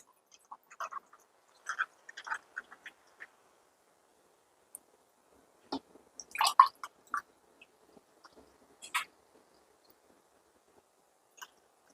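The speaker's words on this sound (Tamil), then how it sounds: "தண்ணிக்கு பதில் சோடா ஊற்றுறேன்" Soda is poured into a glass of lemon juice with sabja seeds, heard as scattered close glugs, splashes and fizzy pops that come in irregular bursts against quiet.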